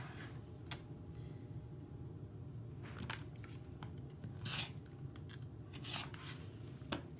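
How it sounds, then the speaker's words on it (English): Scissors slice through quilting fabric in a series of quiet, crisp snips spaced a second or so apart over a soft, steady room hiss. "I'm going to turn it around and cut this side."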